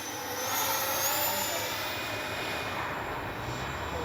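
A Freewing 80mm F-22 RC jet makes a pass with its landing gear lowering, its electric ducted fan giving a steady, loud rushing whine with a thin high tone over open-air wind noise.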